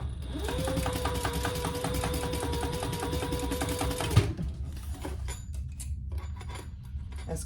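Sewing machine stitching webbing on a handmade pack, a close steady mechanical whir with rapid needle chatter for about four seconds, then it stops, leaving faint handling clatter and low room noise.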